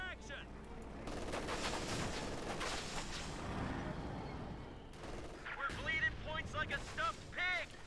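In the Company of Heroes 2 strategy game, machine gun fire and distant explosions rumble at low volume under continuous commentary, with a busy battlefield mix of shots and rolling booms.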